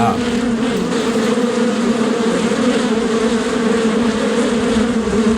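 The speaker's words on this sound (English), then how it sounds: "These bees are nothing but business. I get a little bit closer so you can hear that buzzing sound." Honey bees swarm around a newly built hive entrance during a nectar flow, producing a loud, close, steady drone of buzzing wings that never lets up.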